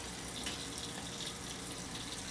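Water from a tap runs steadily during hair shampooing, a constant close hiss with no breaks and no voices over it.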